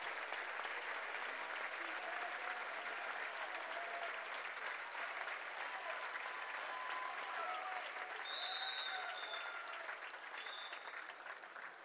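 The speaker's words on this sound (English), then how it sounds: "he's going to get a standing ovation from this crowd." A home crowd at a high school district championship basketball game rises in a standing ovation, sustained steady applause filling the gym for many seconds with faint cheers, a little distant and even throughout.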